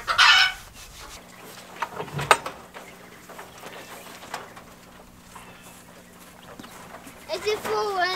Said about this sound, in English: It's just the rooster.